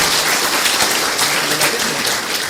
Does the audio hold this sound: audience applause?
yes